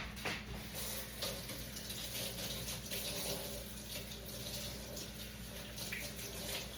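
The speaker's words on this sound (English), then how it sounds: "let me wash my hands" A kitchen faucet runs steadily while hands are washed beneath it, a continuous close splashing hiss with no talking.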